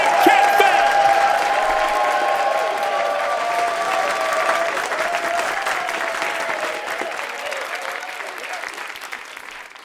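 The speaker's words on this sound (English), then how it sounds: "No need to clap that hard." A stand-up comedy audience gives a comedian a sustained burst of applause with some crowd noise mixed in. It stays loud and dense for about ten seconds before cutting off.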